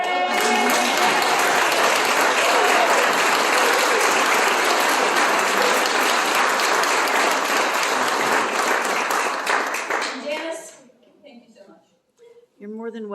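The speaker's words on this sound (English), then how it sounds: "I think that we need to give you a round of applause." Sustained applause from a banquet audience at an annual membership dinner, dense steady clapping for about ten seconds before it stops abruptly into quiet.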